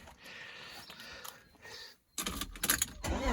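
A BMW E36 engine, just reassembled after coolant leak and compression work, is heard after a quiet stretch with faint key jingling. It then fires up close by and settles into a loud, busy running sound.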